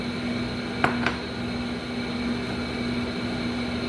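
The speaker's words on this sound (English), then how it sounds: "stick it back in the microwave" A microwave oven runs with a steady electric hum and constant tonal drone, with two faint clicks early on.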